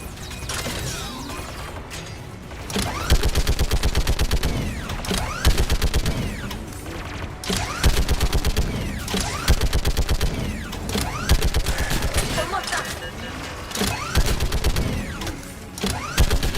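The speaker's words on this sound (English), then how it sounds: "Хороший пулемет." Rapid mechanical machine gun fire in Mass Effect 3, loud rattling bursts that start and stop in repeated volleys with clanking, ratcheting mechanism sounds between them.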